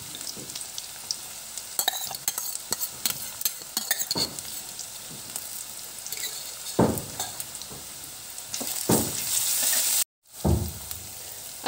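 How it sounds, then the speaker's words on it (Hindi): Onions fry in a pan with coarse green chili and garlic paste for dal palak, sizzling steadily while a spoon stirs and scrapes in repeated strokes, close and moderately quiet. "साथ ही हम डालेंगे हरी मिर्च और लहसुन का दरदरा सा पेस्ट।"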